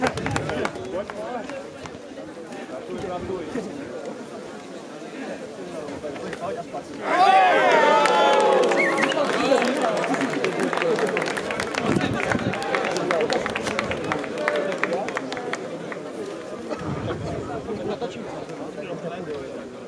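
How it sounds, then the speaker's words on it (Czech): Crowd cheering and clapping for two fighters at an amateur redneck fight event, the noise swelling suddenly into a loud, dense roar of applause and shouts that holds steady for over ten seconds before easing off. "Zatleskáme obou borcům."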